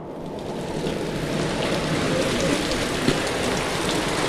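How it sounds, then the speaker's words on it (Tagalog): Steady, strong rain pours down in a broadband wash during a downpour caught by a delivery rider, with a faint drip or splash at one point and no talking. "Naabot na sir ang ulan."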